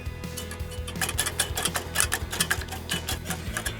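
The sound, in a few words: eggs and green onions being mixed in a bowl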